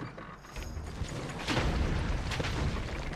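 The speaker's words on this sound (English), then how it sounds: "Again, explosions paying off." Explosions in the video game Trine 2, a couple of rumbling booms amid mechanical creaking, moderately loud with no talk.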